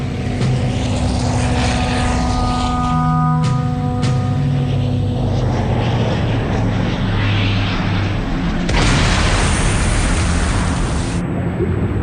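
A propeller plane takes off at night, its engine roar loud and steady with throbbing tones, swelling into a harsher rushing surge as it climbs away.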